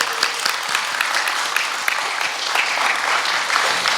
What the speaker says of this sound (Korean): 다시 한번 격려의 박수 부탁드리겠습니다.